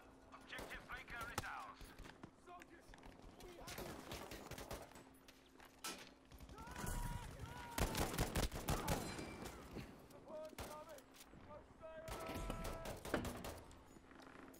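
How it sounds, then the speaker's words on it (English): Bursts of rapid gunfire from the video game Battlefield 5 crackle in clustered volleys, some nearer and louder, with scattered shots between and faint game noise underneath. "So we're being shot at from this direction."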